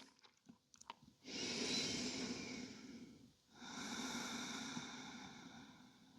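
Slow, deep breaths taken during a gentle lower-back stretching routine: a long, soft airy inhale, a short pause, then a long exhale, close to the microphone and quiet, with no talking.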